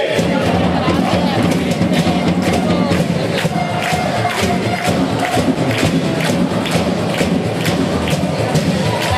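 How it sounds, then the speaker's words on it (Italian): A volleyball crowd at an Eagles Patavium versus Imoco Volley match cheers and shouts steadily, with rhythmic thumping claps or drum beats pulsing throughout. "E dai pubblico un bel applauso per queste splendide ragazze"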